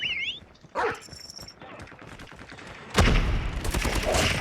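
Gunfire crackles in a multiplayer shooting video game, a few sharp shots and then a dense burst of rapid fire near the end, with a dog barking and game alert tones mixed in.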